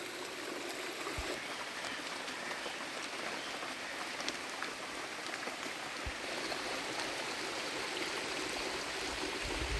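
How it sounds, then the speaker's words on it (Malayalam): A small perennial stream flows through a plantation property in Idukki, Kerala, giving a steady, close rushing and trickling of water that holds at an even level throughout, with no voices. "നമ്മുടെ സ്ഥലത്തിൻ്റെ സെൻറ്ററിൽ കൂടെ ഒഴുകുന്ന ചെറിയ ഒരു വലരിയാണിത്"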